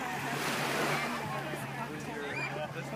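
Ocean waves wash over a rocky beach, a continuous close roar of surf and sloshing water with some wind, steady throughout.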